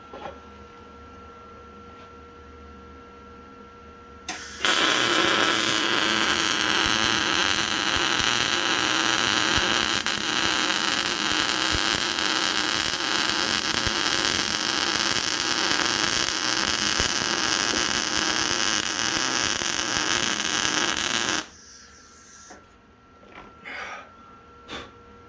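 Welding on metal mounts for heim ends: a loud, dense crackling hiss bursts in and holds steadily for about seventeen seconds over a low background hum, then cuts off, leaving a few faint clicks.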